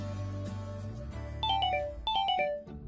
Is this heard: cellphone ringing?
yes